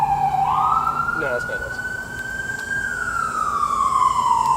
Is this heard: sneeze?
no